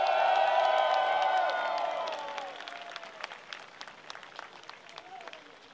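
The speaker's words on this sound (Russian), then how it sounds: "Мало, мало, мало, надо больше хлопать" A crowd at a Russian Drift Series round at Moscow Raceway applauds and cheers, loud at first with whoops and whistles, then fading to scattered clapping by the end.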